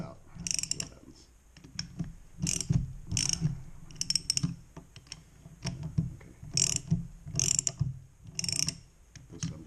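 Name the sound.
wrench turning nut on Stihl BR600 leaf blower crankshaft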